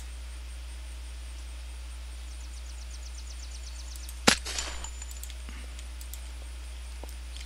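A single sharp sniper rifle shot from the video game Unturned cracks out loudly over a steady low hum, followed by a brief decaying echo and a few faint clicks.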